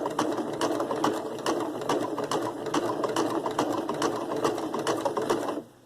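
A sewing machine stitches coiled rope into a rope bowl, its needle chattering in steady rapid bursts throughout, close and fairly loud, stopping abruptly near the end.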